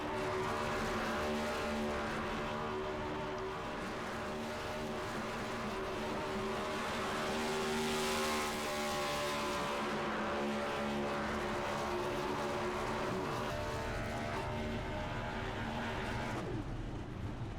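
Race car engine roars at high revs with screeching tire squeal during a celebratory burnout after a win at Bristol, loud and sustained for the whole stretch with the engine note rising and falling.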